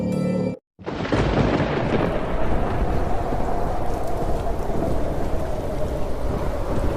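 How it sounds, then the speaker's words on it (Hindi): Heavy thunderstorm in the mountains: a rushing roar of torrential rain and strong wind after a brief moment of silence, with deep rumbling thunder underneath, steady and loud. "तेज हवाओं की आवाज के साथ बादलों के गरजने की आवाज और पहाड़ों से पानी गिरने की आवाज"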